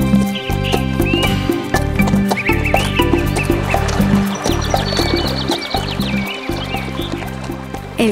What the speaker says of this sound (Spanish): ¡Vamos, caballo! ¡Empieza a caminar! ¡Cruza ese puente!